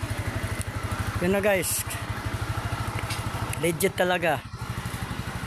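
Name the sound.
motorcycle engine running after starting without key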